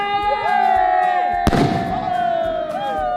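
A ten-rupee sky shot firework bursts once in a sharp crack midway during Diwali celebrations, amid a busy festive background of crowd noise, distant whistles and other fireworks.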